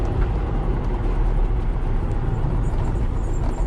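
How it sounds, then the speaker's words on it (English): Inside a Porsche 356, the engine runs at a steady low rumble with a continuous droning tone, loud and close, with no talking. "you hear that 911 sounding engine. Well, sorry, 911s don't sound like it. 356s do."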